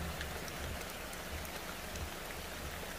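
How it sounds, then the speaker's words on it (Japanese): Heavy rain falling steadily outdoors, a dense, even hiss of drops on surfaces with no pauses, moderately faint and without voices. "すげえ雨この雨に"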